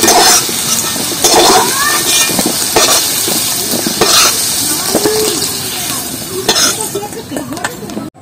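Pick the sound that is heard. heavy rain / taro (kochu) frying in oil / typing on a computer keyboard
taro (kochu) frying in oil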